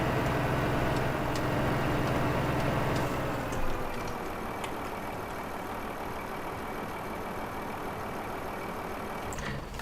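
A tractor engine idles in Farming Simulator 2015, a steady low mechanical hum running throughout with a faint ticking on top and no talk.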